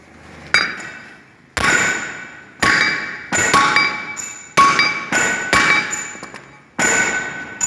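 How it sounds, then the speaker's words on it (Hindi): A big hammer strikes an engine connecting rod to straighten it, about eight loud, ringing metallic clangs in an irregular rhythm, each blow decaying with a metallic ring, close and alone without talk. "इसको हमने 3 बार हथौड़े की मदद से, बड़े हथौड़े की मदद से इसको 4 चोटें लगाई हैं।"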